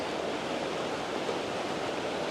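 A river waterfall pouring over rocks, a dense steady rushing roar filling the whole stretch, close and loud with no pauses.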